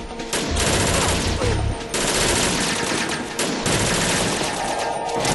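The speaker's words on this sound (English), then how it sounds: "I'm shooting at nothing." Rapid automatic gunfire in the video game Metal Gear Solid 2, loud sustained bursts with short breaks, filling the scene without talk.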